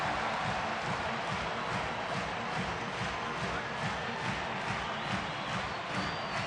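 A Rockies home crowd of over 31,000 on a Friday night in Colorado, standing and cheering at a baseball game, makes a steady, dense roar with faint rhythmic clapping, distant and unbroken throughout.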